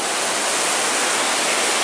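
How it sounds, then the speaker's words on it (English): The Devil Track River rushes high and aggressive after heavy rain, a loud, steady, unbroken roar of water close by, with no voices over it. "Devil Track River. You see, pretty aggressive and pretty high right now"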